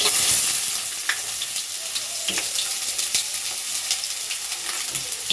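Chopped onion frying in a pan, with green chilli, ginger and garlic going in next as filling for semolina finger rolls, giving a loud, close, steady sizzle punctuated by occasional light scrapes and clicks of stirring.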